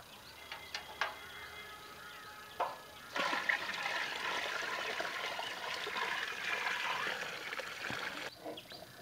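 Water pours steadily into a large drum, about 100 litres, a continuous rushing splash with a few knocks and clatters at the start and end.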